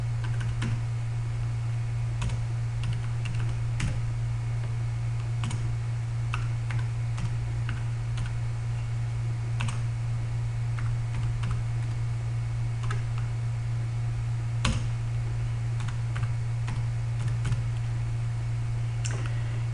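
Fingers tap out an access code on a computer keyboard, a steady run of light close clicks over a constant low electrical hum, with no talking.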